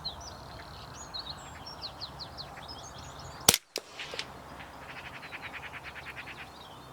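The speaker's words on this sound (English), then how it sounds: "A relatively easy shot at 50 yards and the first one in the bag." A single sharp rifle shot cracks out loud and close while hunting a hooded crow in a field, followed by a brief dull echo, with small birds chirping faintly before and after.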